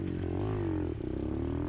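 A dirt bike engine putters and revs on an outdoor trail, a short, steady mid-range rumble with slight throttle swells, close and alone without voices.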